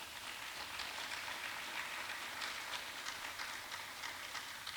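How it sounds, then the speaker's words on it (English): A roomful of people at a California community college town hall applauds the panel, a faint, steady patter of many hands clapping together without a break. "Please give them all a round of applause."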